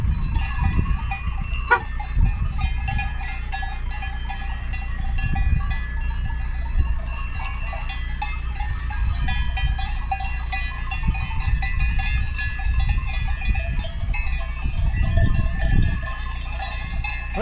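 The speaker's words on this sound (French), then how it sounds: "ça c'est des vrais moutons" Herd of sheep wearing cowbells moving along a road, the bells clanking irregularly and continuously at close range with a few faint bleats and shuffling.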